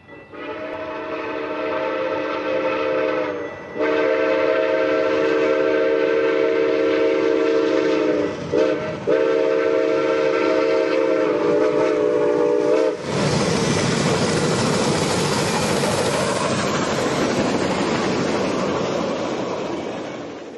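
Santa Fe 3751 steam locomotive on a 2012 special to San Bernardino sounds its whistle in long, loud sustained blasts, then thunders past at track speed in a broad, roaring rush.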